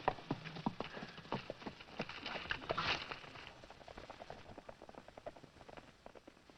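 Horse hooves in a 1939 western film clip-clop in a steady, rhythmic pattern, fairly close, with a soft hiss in the background and no talking.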